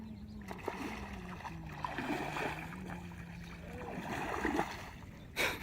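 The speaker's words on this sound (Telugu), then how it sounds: "నీటిలో పడవ ప్రయాణం." A boat moves across water with a steady low engine drone and gurgling, splashing water alongside, ending in a sudden louder splash.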